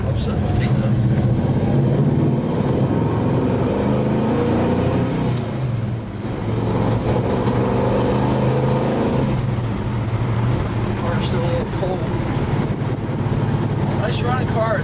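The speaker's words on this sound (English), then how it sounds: "Nice running car." A 1966 Plymouth Belvedere on the road, its engine a steady mid-pitched hum with tire and road rumble throughout, easing briefly before settling back, while someone talks over the drive.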